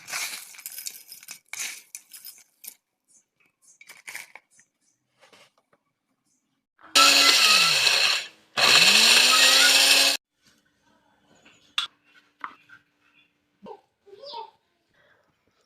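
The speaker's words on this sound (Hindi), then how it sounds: "तो अब चलिए इसको ग्राइंड करते हैं।" An electric grinder pulverises dried aloe vera and mint leaves in two loud bursts of whirring, each about two seconds with a brief pause between, surrounded by quiet handling clatter and occasional speech.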